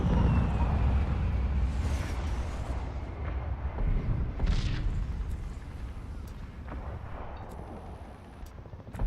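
Heavy booming blasts of cannon fire in Medal of Honor, a big explosive hit early and more rumbling shots later, loud and close with a fading roar.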